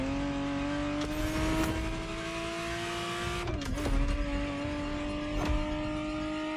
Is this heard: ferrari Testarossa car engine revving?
yes